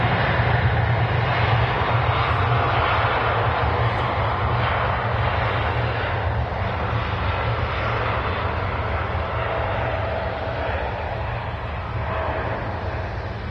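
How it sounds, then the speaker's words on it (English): A Gulf Air airliner departs runway 23 left at Manchester Airport with a loud, sustained engine roar that fades slowly over about thirteen seconds, and no voices are heard. "The Gulf Air departing runway 23 left at Manchester Airport."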